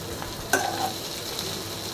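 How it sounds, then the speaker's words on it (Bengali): Fish roe frying in a pan while being stirred gently, a close, steady sizzle with one sharp spatula scrape early on and softer scuffs after. "অল্প অল্প করে হালকা হাতে নেড়ে নিতে হবে, যাতে মাছের ডিমগুলো সব দিক থেকে সুন্দরভাবে রান্না হয়"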